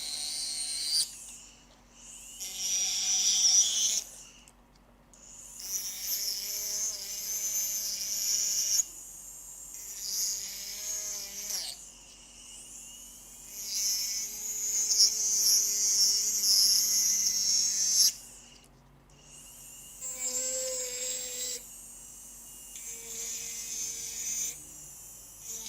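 A dental handpiece whines at high pitch while trimming a 3D-printed Essix retainer, running in long bursts with short pauses between passes, close and steady.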